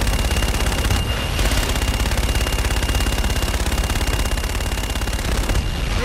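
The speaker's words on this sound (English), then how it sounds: "Roger, inbound for gun run" Rapid aircraft cannon fire from a strafing gun run in the shooter game Call of Duty: Infinite Warfare, a dense continuous burst of loud gunfire lasting several seconds, with brief sharper cracks near the start and end.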